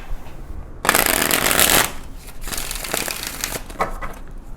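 A Shadows tarot deck being shuffled by hand, one sharp dense riffle of cards followed by softer, shorter riffling and tapping, close and clear with nobody speaking.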